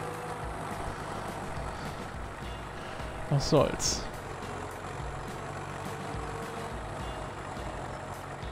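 A tractor engine in the farming game Landwirtschafts-Simulator 17 runs with a steady low drone and a brief louder burst midway, while someone talks over it.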